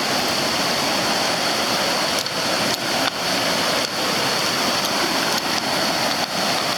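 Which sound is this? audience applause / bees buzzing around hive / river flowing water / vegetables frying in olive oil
river flowing water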